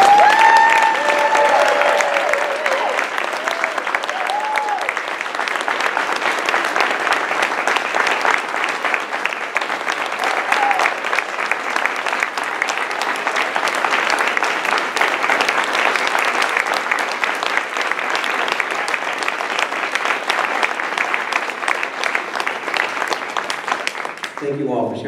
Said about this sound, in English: receive another thunderous round of applause.